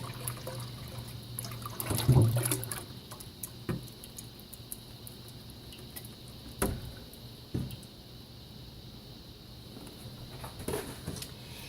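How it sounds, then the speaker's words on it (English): A soft, steady pour of a gallon of milk into a pot for making mozzarella, with a few quiet clunks and splashes along the way. "So I'm pouring that entire gallon into this pot."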